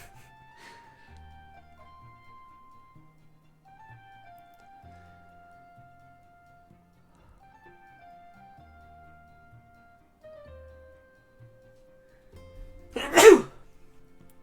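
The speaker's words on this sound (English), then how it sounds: "Oh, that was the worst lead up to a sneeze ever." A single sharp, loud sneeze bursts out near the end after a long quiet stretch of soft game music, close and alone.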